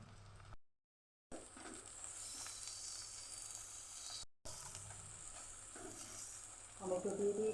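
Tomatoes tipped into onions and black cumin frying in a wok for a mustard bhola fish curry sizzle with a loud, steady hiss, broken by two brief silent cuts, with stirring clatter toward the end.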